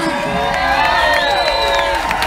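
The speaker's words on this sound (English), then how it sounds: "a round of applause one more time." A concert crowd at a show at Terminal West in Atlanta cheers and whoops loudly and continuously, voices shouting over one another.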